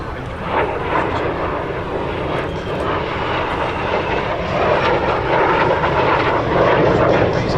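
Steady, loud roar of an aircraft engine at the EAA AirVenture Oshkosh 2025 airshow, a continuous broadband rush with no talk over it.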